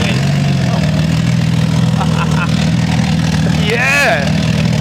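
A Ford Falcon BA turbo engine idles with a steady low rumble, loud and close, while people talk over it and a brief whistling sweep rises near the end.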